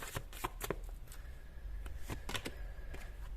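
Tarot cards shuffled by hand in a quiet room, a rapid run of crisp riffling bursts and soft card slaps over about three seconds, close and fairly quiet, with no talking.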